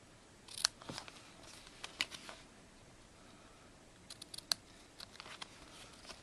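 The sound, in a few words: scissors trimming ribbon tails on a card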